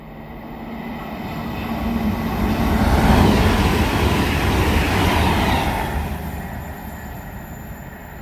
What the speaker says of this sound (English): pass through now is going to be another Great Western Railway IET, going from London Paddington to Great Malvern